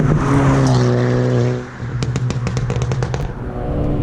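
A loud, tuned 240 WHP 2018 Hyundai Elantra Sport, its engine droning and building under acceleration, then easing off into a burst of rapid crackles and pops on the overrun before the engine note picks back up, close and raw.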